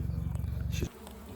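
A honeybee swarm buzzes loudly and close in a steady dense drone, then cuts off abruptly to a quieter background hum.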